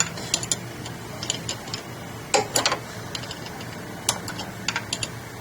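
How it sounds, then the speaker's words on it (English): A pair of 2 9/16 wrenches tighten a nut while an HD Sport is reassembled, giving sparse, light metallic clicks and ticks in an otherwise quiet space, with a few brief bursts of clattering. "Now we're going to start getting some tension on it with the wrenches, 2 9/16 wrenches. And just tightening it up."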